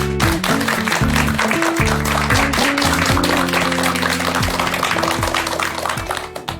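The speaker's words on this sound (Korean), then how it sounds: "여러분 큰 박수로 맞이해 주시기 바랍니다." A studio audience claps to welcome a guest on a Korean talk program, a dense, steady patter of applause running throughout under loud music.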